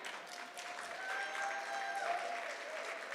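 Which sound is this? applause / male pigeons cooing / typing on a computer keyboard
applause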